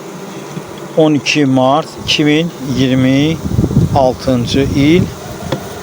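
Honey bees from weak, queenless colonies hum steadily in the background after long rains, with a person talking over the buzzing throughout.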